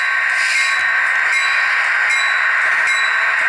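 An HO scale Intermountain SD40-2 model diesel locomotive creeps along very slowly, its sound-effects decoder giving a steady, continuous engine drone with faint rail-like noise and no voices.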